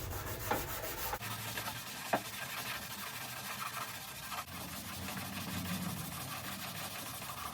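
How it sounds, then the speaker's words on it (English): Car bodywork being hand-sanded with sandpaper makes a continuous, faint rubbing scrape with a couple of brief knocks, heard close over a low background hum. "If you want it done properly, get your sandpaper out and go for it."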